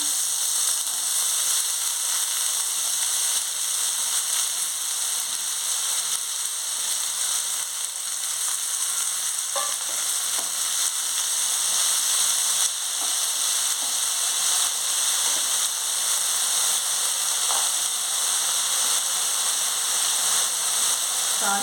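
Small cut potato pieces fry in a pan of tempering oil. A steady, loud sizzle runs throughout with a few faint clinks and stirs, and no voices.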